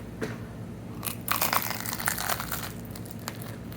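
Teeth tear into a chewy, untoasted bagel, giving soft crinkly bites and rustling crunches that swell in the middle, close up with no talking.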